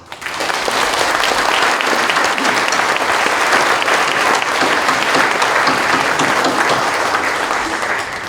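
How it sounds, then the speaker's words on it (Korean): A church congregation applauds steadily and loudly through the whole stretch at a service honoring a retiring general assembly moderator and newly installed officers, a dense, even wash of many hands clapping with no pause. "축하 박수 한번 합시다."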